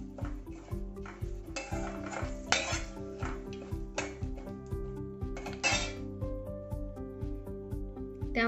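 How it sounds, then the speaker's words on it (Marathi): Whole spices gently sautéed in a little oil over low flame, heard mostly as repeated metal utensil clinks and scrapes against the pan with only a slight sizzle beneath, amid a steady background hum; no voices. "बारीक गॅसवर अलगद परतून घ्यायचा आहे हा खडा मसाला."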